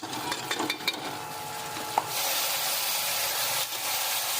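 Onions with garlic-ginger paste stirred in a pan, a close scraping and rubbing stir followed by a steady sizzling hiss of frying, with no talk.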